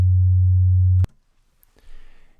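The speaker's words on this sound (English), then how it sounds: "Here we have a sine wave." A pure, loud sine wave test tone hums steadily for about a second, then cuts off abruptly with a click, followed by near silence and faint digital noise.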